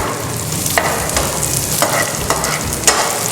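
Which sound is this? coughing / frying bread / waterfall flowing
frying bread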